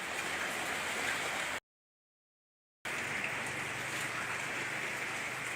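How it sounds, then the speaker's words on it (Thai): Steady rainfall hisses evenly as a soft, continuous wash, broken by a complete silent gap of about a second before resuming unchanged. "ฝนก็ได้ตกแล้วมันี่ตกตกตก"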